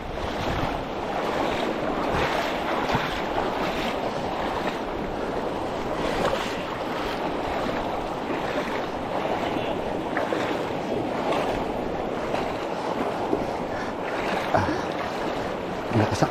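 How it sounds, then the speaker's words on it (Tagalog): Strong ocean waves along the Pacific coast roar steadily and loudly, a continuous broadband wash with wind buffeting the microphone throughout. "Lakas ang alon, putik."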